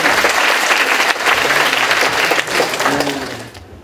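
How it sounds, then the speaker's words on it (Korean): Audience applause at a university job fair talk: a full, dense burst of clapping from a crowd, strong and steady for several seconds before tapering off at the end. "이럴 때는 박수 치고 이러는 거야."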